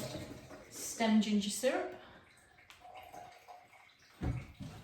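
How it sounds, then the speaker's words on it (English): Sticky hands are rinsed under a running kitchen tap while baking a ginger cake, a short splash of flowing water with a few clinks. It is close and partly under talk. "Wash my hands because they're sticky."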